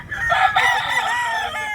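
A rooster lets out one long, loud crow up close, its drawn-out call filling nearly two seconds before trailing off.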